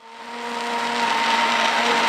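A kitchen blender half-whizzes chunky meatball ingredients for Nonna's meatballs, its motor spinning up into a steady, close, loud whirring drone that holds for the whole stretch with no talking.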